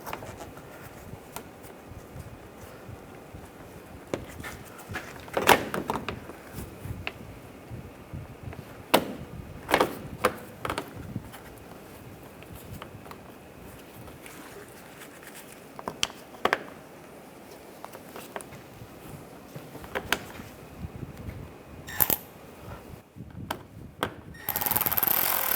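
Screws are started by hand on a 2011-2015 Chevy Cruze grille being replaced, producing quiet clicks, scrapes and plastic knocks in short irregular bursts over a faint background.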